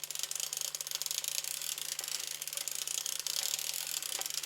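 A hand-cranked sock knitting machine running continuously, a dense, steady mechanical ratcheting and clicking with a faint underlying hum, close and unbroken throughout.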